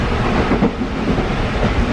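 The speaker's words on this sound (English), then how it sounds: "She likes the train." A train rolls past close by, a loud, steady low rumble with rattling carriage noise filling the whole moment without a break.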